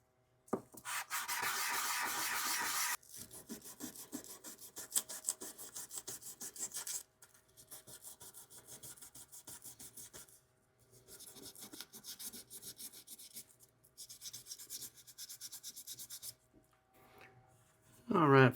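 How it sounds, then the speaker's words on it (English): A wooden Dr. Grabow Golden Duke tobacco pipe bowl is sanded by hand: close, scratchy rubbing strokes in bursts of rapid back-and-forth, pausing between passes, with a brief handling knock at the end. "fairly well finished with the sanding"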